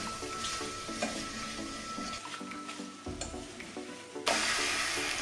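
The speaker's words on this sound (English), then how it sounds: "And yet another stir." Vegetables and thyme stirred in a pot for pumpkin soup, a soft sizzle under rhythmic scraping and knocking of a spoon against the pot, with a louder burst of hiss near the end, no voices.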